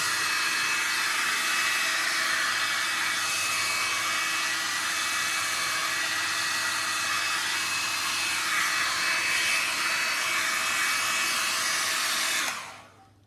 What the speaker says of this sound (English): So I got this little tiny hair dryer